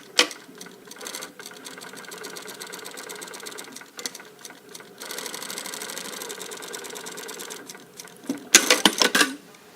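A sewing machine stitches in a blazer sleeve, running in fast steady bursts with short pauses, close and fairly loud, ending in a few quick clattering stitches.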